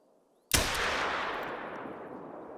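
.243 handgun fired in theHunter: Call of the Wild hunting game, a single loud sharp shot after brief quiet, with a long rumbling echo trailing off.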